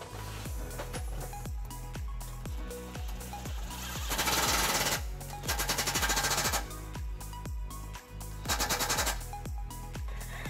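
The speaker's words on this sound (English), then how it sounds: "Now, to use this, we're going to use a 13 millimeter socket." A tool on a 13 mm socket drives self-tapping screws into a trailer hitch bracket on a 2007 Lexus LX470: rapid, loud, close hammering clatter in repeated bursts, with a steady mechanical whir between them.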